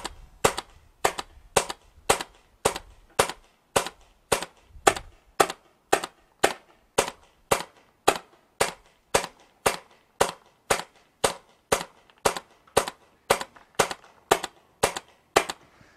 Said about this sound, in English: then we're going to shoot 30 shots to get the new velocity reading